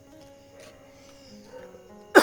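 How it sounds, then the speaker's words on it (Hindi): A quiet stretch ends in a single sharp, loud cough close to the microphone. "सॉरी खांसी बहुत आ रही है।"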